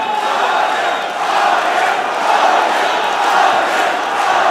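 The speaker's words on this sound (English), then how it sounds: "Crowd going absolutely wild for this." An MMA crowd roars wildly during a fight, a loud, sustained swell of cheering and shouting from a large arena audience that rises and falls slightly without letting up.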